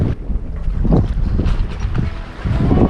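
A sailboat under way in light wind off southern Baja near the Midriff Islands, with a steady rush of wind buffeting the microphone over low, surging water along the hull.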